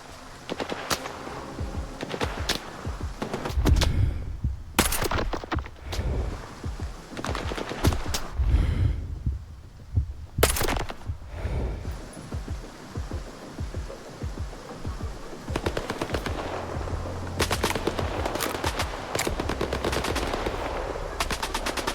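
Automatic gunfire in the video game STALKER 2: Heart of Chornobyl, with repeated bursts of rapid shots, some loud and close and others more distant, over a steady background of in-game ambience.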